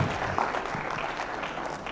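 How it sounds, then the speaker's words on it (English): An award ceremony crowd at a national exhibition claps in a brisk, moderately loud burst that thins slightly toward the end, with some faint voices mixed in. "Another round of applause as they go."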